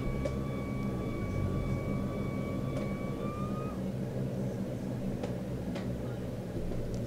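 Engine thrust reversers of a Saab 340 after landing in a flight simulator roar as a steady loud engine rush, with a high whine that dips and fades partway through.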